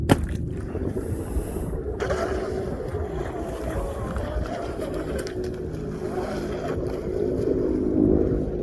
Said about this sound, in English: where did this freaking wind come from?